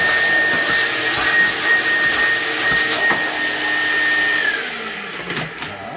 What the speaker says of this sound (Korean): 저희는 청소기로 빨아가지고,